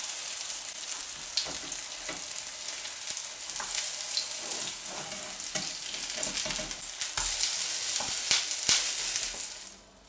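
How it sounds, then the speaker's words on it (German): Apple quark pancake batter fries steadily in a hot pan, a continuous close sizzle with crackling spits that builds slightly louder toward the end before cutting off. "drehen wir um und braten wir die nächste"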